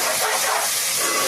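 Egg masala curry bubbling under a lid in a pan, a steady broad steamy hiss filling the short stretch with no breaks or voices.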